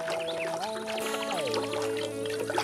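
Water pours and trickles as flowers are watered on a hot day in a cartoon, heard softly beneath sustained musical tones that shift in pitch.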